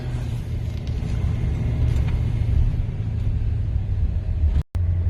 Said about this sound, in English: Let's get it going here and see how far I can drive before it dies on me.